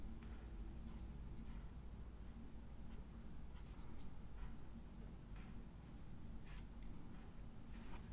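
A pen writing in a paper planner, with faint quick scratchy strokes and light taps coming in short bursts over a low steady background hum, close and quiet, no speech.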